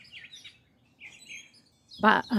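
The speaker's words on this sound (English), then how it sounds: "You can hear the birds singing." Faint, high bird chirps come and go over quiet background, followed by a brief burst of louder nearby sound at the end.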